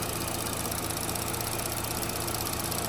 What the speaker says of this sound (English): Okay, engine's running.